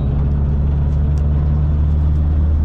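A Hyundai Elantra N engine holds a steady, loud rumble during a shakedown on a circuit. It drones at an even pitch throughout with no clear revving, heard close as if from inside the car.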